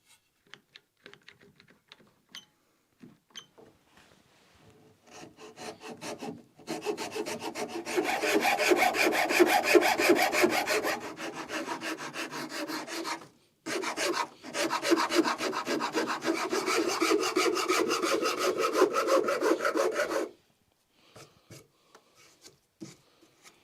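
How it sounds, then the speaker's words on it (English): A hand rasp shaping the handle of a wooden sword, rhythmic rough scraping strokes in sustained bursts with brief pauses between, close and clear, with a few quiet taps at the start and end and no speech. "Now I'll go ahead and start shaping the handle."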